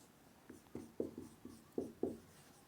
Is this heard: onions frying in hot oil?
no